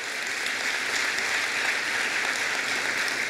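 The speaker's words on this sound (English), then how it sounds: "You should applaud for that." Steady, even applause from a large crowd at a college convocation ceremony, a continuous hiss of many clapping hands with no talking over it.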